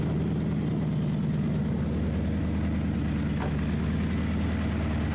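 A supercharged car engine idles steadily at a show and shine, a deep continuous rumble held close and loud with no talk over it.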